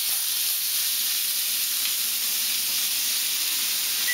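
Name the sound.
London broil steak searing in butter after flipping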